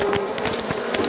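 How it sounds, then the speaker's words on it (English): Honey bees buzzing continuously and close while being brushed off honey super frames at a hive, a dense steady hum with no talking. "brush them off again, because it does require another brushing"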